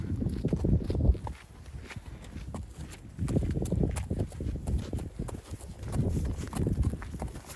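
A horse walks on foot over rough ground, its hooves clip-clopping in a steady, fairly close rhythm, with faint background rustle and no speech.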